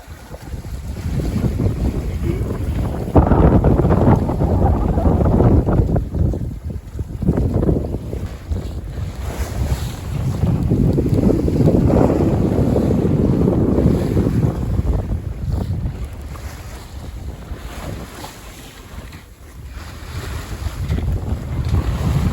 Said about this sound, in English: We're sailing upwind in an easterly into the Monterey Bay.